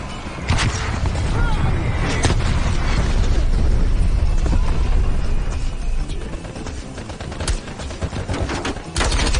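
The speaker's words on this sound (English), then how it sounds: "Artillery inbound." Artillery strike explosions in Call of Duty: Black Ops Cold War multiplayer, a loud continuous barrage of booms and blasts mixed with gunfire, with sharp impacts standing out over the dense rumble and a voice heard in the mix.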